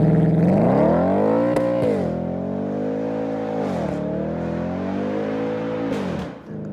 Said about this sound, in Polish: Do tego oczywiście dochodzi nam bardzo przyjemny pomruk z wydechu